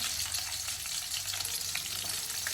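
Onion frying in a pan with chili, a steady bright sizzle holding close and even throughout, with faint scraping now and then and no voices.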